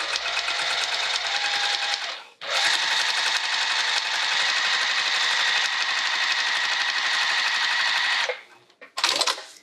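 A Bernina 1008 sewing machine stitches quilted fabric for a witchy hat, whirring loud and continuous through two long runs with a short break between them, then a brief final burst.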